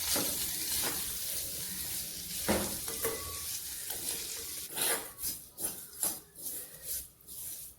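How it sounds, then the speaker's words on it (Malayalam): Grated coconut fries in a little oil in a pan, a soft steady sizzle broken by scraping stirs and light metal clinks from a spoon, which grow more frequent and rhythmic toward the end. "ചീനിച്ചട്ടിയിൽ ലേശം എണ്ണയൊഴിച്ച് തേങ്ങാപ്പീര ഇട്ട് വറക്കാം"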